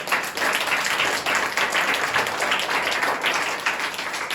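A church congregation claps for the Lord at a Resurrection Day service, steady dense clapping filling the room for several seconds without a break.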